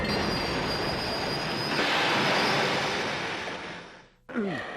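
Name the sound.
train passing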